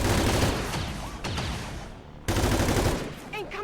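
Gunfire erupts during an XCOM 2 tactical mission, with close bursts of shots and a loud blast cutting in midway, followed by dense rattling reports.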